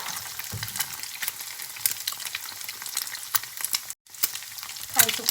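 Fresh shrimp stir-fry in a hot pan for Thai shrimp fried rice with red chili paste, giving a steady close sizzle broken by repeated scraping stirs of the spatula and a brief pause.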